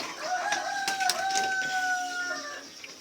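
Newly hatched quail chicks peep in high, thin, continuous calls from an incubator, several overlapping chirps near and fairly loud with no talking.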